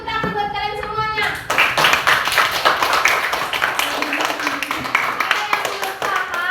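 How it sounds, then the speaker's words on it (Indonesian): A fourth-grade primary school class bursts into loud, rapid group clapping after a teacher's voice, the children's hands tapping in a dense, fast rhythm close by, with faint kid voices mixed in. "Coba dulu tepuk tangan buat kalian semuanya."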